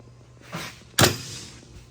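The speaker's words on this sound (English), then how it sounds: "the door's shut really nice, but with these shocks on there, they're way too strong." Heavy cage door on a trashed farm-use vehicle swinging shut, with overly strong gas shocks: a brief rush and then a single sharp, close slam with a short ringing tail.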